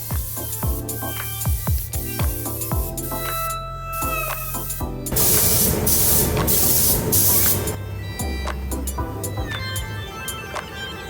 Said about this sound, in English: Here I'm just using some fade out spray so the new lacquer will kind of melt to the old lacquer